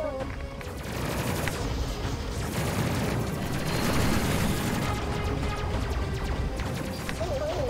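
Plasma guns firing in the space combat game Space Crew, a dense, continuous barrage of rapid energy shots and crashing impacts layered with game background sound.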